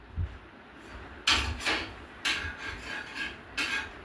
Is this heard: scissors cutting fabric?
yes